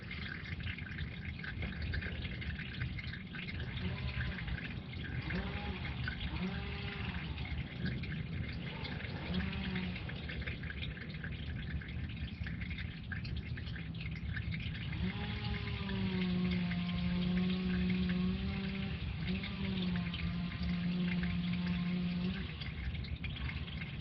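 Engine oil drains in a steady liquid stream from the drain plug of a Jeep Wrangler JK into a pan, a continuous pouring and trickling sound over a faint background hum.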